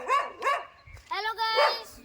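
Dogs bark on a rural village path, several close, loud yelping barks in quick bursts with short pauses between them, mixed with a person talking.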